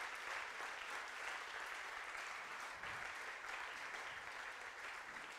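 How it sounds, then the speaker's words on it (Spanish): A church congregation applauds the Lord during a sermon, a steady, distant-sounding wash of many hands clapping that holds at an even level for several seconds. "Dele un aplauso al Señor."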